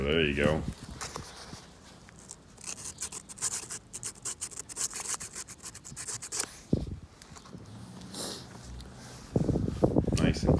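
Sandpaper scrapes and rubs on the electrical contacts of a mirror on an Audi A6 2.7T Quattro, a steady close rasping that runs under brief speech, with short bursts of louder handling near the end.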